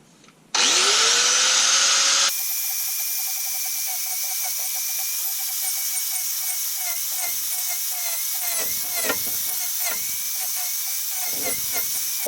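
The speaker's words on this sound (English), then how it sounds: "It's like a wood cutting blade for your angle grinder." Angle grinder fitted with a wood cutting blade spins up loudly and then grinds steadily against wood, flattening the top of a block for a mini anvil stand, with a sustained high whine and rough scraping pulses toward the end.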